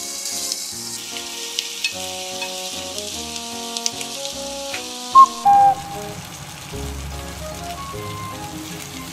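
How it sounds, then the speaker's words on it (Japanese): Chicken drumsticks searing in oil in a hot pan for a Thai-style coconut milk stew, a steady close sizzle running throughout with occasional pops and a brief kitchen whistle. "手羽元を炒めます。 焼き色をつけていきます。"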